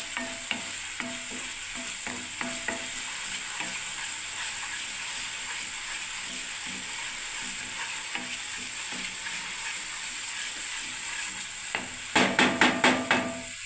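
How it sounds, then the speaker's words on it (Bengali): Chhena dalna masala being stir-fried in oil, a steady close sizzle with light scraping strokes throughout, ending in a quick run of spoon taps against the pan. "এবারে আমি বন্ধুরা 10 মিনিট এটা কষতে থাকবো"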